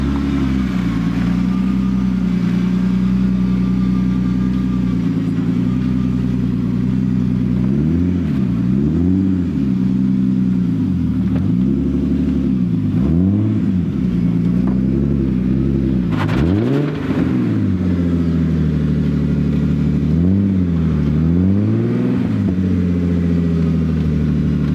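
A truck drives along the road with a steady, loud engine drone whose pitch rises and falls as it shifts and changes speed throughout. No voices are heard.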